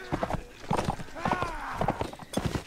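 Horse hooves clip-clop in the video game Mount & Blade Warband, with quick irregular clusters of close, hollow knocks and a brief whinny-like tone, all mixed with battle clatter.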